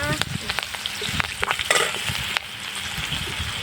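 Nigella seeds and slit green chillies crackle and spit in hot oil, a loud busy sizzle full of sharp pops that settles into a steadier hiss.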